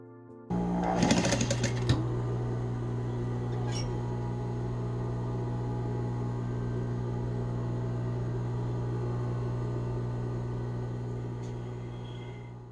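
An industrial sewing machine stitching a fabric seam, starting with a few clunks and then running as a steady, continuous motor hum with fast needle rattle, close and alone.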